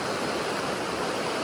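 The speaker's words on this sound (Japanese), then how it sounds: "いい川だなこれ" A cold mountain stream holding amago and iwana rushes steadily nearby, a dense broadband wash of flowing water, loud and continuous with no voices.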